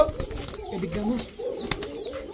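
Restless high-flyer Giribaz and racer pigeons coo at a pigeon seller's stall: low rolling coos repeat in short bursts, fairly close, over faint background noise.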